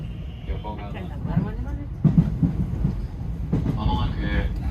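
A local Sanyo Line train bound for Iwakuni rumbles along from inside the carriage, a steady low roar with clacks and rising bursts, while talk carries over it.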